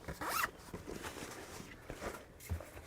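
A zipper on the mesh compartment of a 3V Gear Outlaw 2 sling pack, pulled in a quick, close rasp at the start, followed by quieter handling and fabric rustle.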